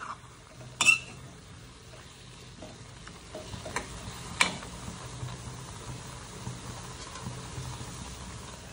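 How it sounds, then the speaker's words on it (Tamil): Raw mango pachadi being stirred in a pan on a low flame, a soft steady scraping and gentle sizzle with a sharper clink near the start and another midway, fairly quiet and with no talking. "கிளறி கொடுத்துக்கலாம்."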